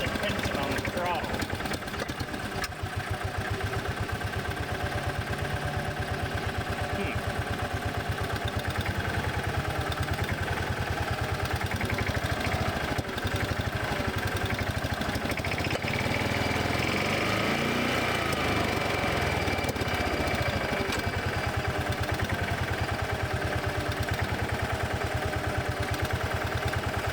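Bobcat Pioneer utility vehicle, a Club Car Carryall type, with its engine running and idling: a steady, close mechanical drone that holds an even, unbroken pitch throughout.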